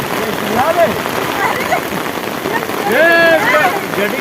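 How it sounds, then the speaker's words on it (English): Rain falls steadily during a monsoon picnic outdoors in Kolkata, a continuous hiss of drops with wind buffeting the microphone, while people talk and shout excitedly over it. "it's raining!"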